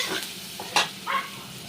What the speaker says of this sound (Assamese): পিঁয়াজটো ৰং ধৰি আহিছে। পিঁয়াজ ভাজা হৈ গ'ল তাৰমানে।